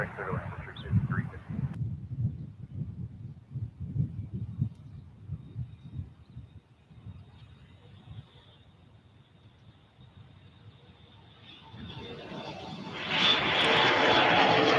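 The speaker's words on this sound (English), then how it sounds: "Here's our American inbound Airbus A319." An inbound American Airlines Airbus A319 jet airliner at Cleveland Hopkins International Airport starts as a low rumble, fades briefly, then swells into a loud, broad engine roar as it approaches, with voices in the background.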